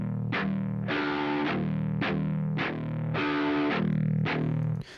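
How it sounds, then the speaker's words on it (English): Distorted electric guitar harmonics from a metal cover ring out in repeated bright, decaying notes, alternating between two tracks panned left and right, loud and without voices. "I'm doing like harmonics on like alternating between the two tracks. So it's like panned left and right."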